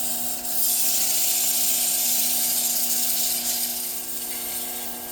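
Steady, close rubbing and hissing of sandpaper at 240 grit on a spinning yew wood yo-yo on a woodturning lathe, with a constant motor hum underneath and no talk.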